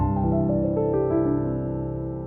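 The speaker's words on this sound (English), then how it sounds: "And this arpeggio sounds something like this." A piano playing a pentatonic arpeggio in C, a run of clear, ringing notes rising in quick succession, each sustained and overlapping before the sound fades.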